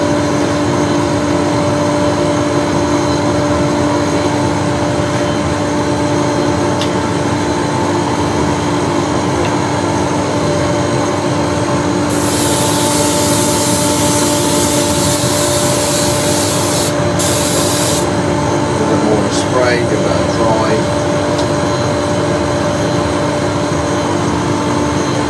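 Loud steady roar of an extractor in a lure-painting workshop, with a dryer blowing over airbrushed fishing lures cutting in midway as a bright rushing hiss that stops briefly, then returns.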